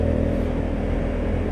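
A Honda Africa Twin twin-cylinder motorcycle engine runs steadily with a low, continuous drone, close and fairly loud throughout, with no voices over it.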